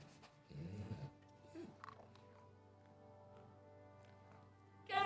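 A dog whimpers and whines in the medieval game Kingdom Come: Deliverance, one strong whine near the start, then fainter yelps over a steady background hum, with a brief loud noise at the end.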